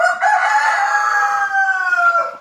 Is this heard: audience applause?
no